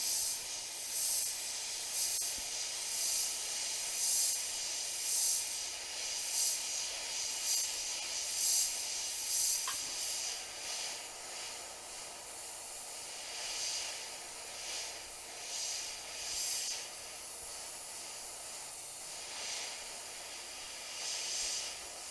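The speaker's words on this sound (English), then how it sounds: "I'm going to put the airbrush right on the edge." An airbrush sprays paint onto a Harley-Davidson motorcycle part, a faint, steady airy hiss that swells and eases in short passes throughout.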